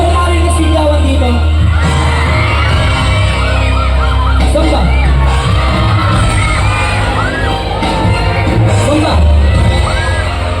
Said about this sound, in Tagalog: Gusto ko marinig sigawan dito.